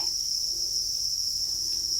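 Crickets on a cricket farm chirp in a continuous, high, steady trill, dense and unbroken, with no voices.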